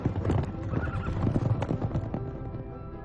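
Horses charging and neighing, a dense, loud drumming of many hooves mixed with whinnies, close and continuous.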